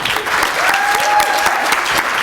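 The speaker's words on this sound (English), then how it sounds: "let's give Deli a round of applause" A crowd at an award ceremony applauds for Deli, with steady, full clapping filling the room throughout and a faint voice or tone drifting over it.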